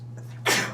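A single sharp sneeze bursts out close by in a quiet meeting room, brief and loud over a steady electrical hum.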